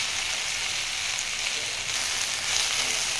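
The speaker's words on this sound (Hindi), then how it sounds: "और ये अब अच्छी तरह से फ्राई हो गए हैं।" Pieces of wheat flour snack fry in a pan on a gas stove with a dense, steady hiss like light rain, close and even throughout, with no talking.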